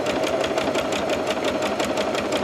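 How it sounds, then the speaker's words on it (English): A sewing machine runs a steady, fast locking stitch through quilt binding, its needle beating in a dense, even rhythm that holds at close range from start to finish with no break and no voices. "Would help if I turn the machine on. Back tack or do a locking stitch"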